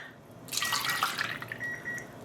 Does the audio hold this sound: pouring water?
yes